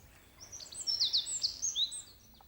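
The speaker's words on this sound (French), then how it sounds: "Voici la chouette de Tengmalm." A Tengmalm's owl, a small owl of mountain forests, gives a short series of high, clear calls, faint and alone against a quiet background.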